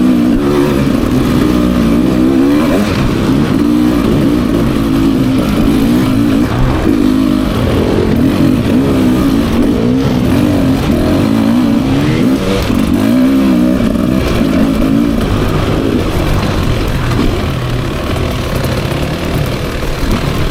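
A 2024 Beta 300 RR Race Edition two-stroke dirt bike ridden up hills, its engine loud and close throughout, droning and revving in continuous waves with no pauses.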